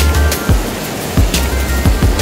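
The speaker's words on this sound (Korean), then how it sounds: "바로 엄청난 수량의 물이 떨어지는 폭포입니다." A high-volume waterfall in a mountain valley gorge at Jungsan-ri on Jirisan, pouring into a deep pool, gives a steady, loud wash of falling water with rumbling low-end bursts and no voices.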